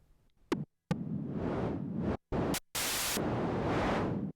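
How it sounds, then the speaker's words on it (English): Korg Prologue synthesizer's digital multi-engine oscillator producing white noise, heard as loud hissing bursts of varying color that cut off abruptly several times, with short silent gaps between them. "Oscillator 3 is actually a digital multi-engine, which provides, at its simplest, white noise, a number of different types of white noise"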